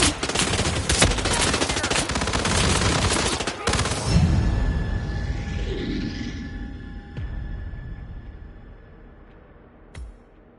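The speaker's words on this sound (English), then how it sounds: "Gunshot." Gunfire in Hitman World of Assassination: dense rapid bursts of shots for about four seconds, then rumbling and whooshing effects fading out, with one more sharp shot near the end.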